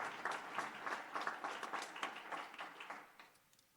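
Applause from an audience at a Watertown acts-of-excellence awards event, steady dense clapping at moderate distance that fades slightly toward the end.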